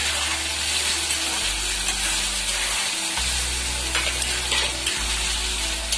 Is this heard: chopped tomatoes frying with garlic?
yes